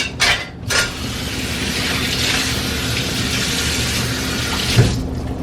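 Water from a kitchen tap pours steadily into a cooking pot for a beef bouillon steak stew, a constant close splashing rush after a couple of brief clatters at the start.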